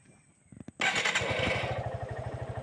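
A Suzuki Gixxer SF FI ABS motorcycle fires up with a few starter cranks, catches with a roar and settles into a steady, rhythmic idle thump close to the microphone.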